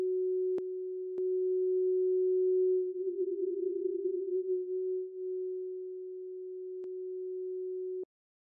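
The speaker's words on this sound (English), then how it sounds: "Spread takes a combination of pitch changing and detuning" A steady synthesizer tone with spread detuning holds at one pitch, briefly wavering and beating in the middle, with a few sharp clicks, then cuts off abruptly.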